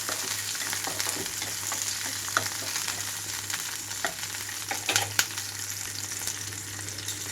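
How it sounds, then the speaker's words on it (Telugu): Green chillies fry in hot oil with a steady close sizzle, broken now and then by sharper crackles and faint stirring scrapes. A low hum runs underneath, and there is no talking. "ఆయిల్ హీట్ అయ్యాక పచ్చిమిరపకాయలు వేసి వేయించుకుంటున్నాను"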